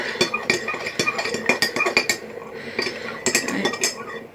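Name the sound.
spoon stirring strawberry Nesquik milk in a glass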